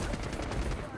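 Rapid bursts of gunfire from a Call of Duty match crackle in a dense, close volley lasting about a second, with a voice partly mixed underneath.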